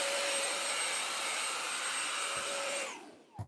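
Kenmore DS1030 cordless stick vacuum whines steadily and loudly while sucking up oatmeal and flour, with a high tonal motor hum, then powers down near the end with a couple of clicks.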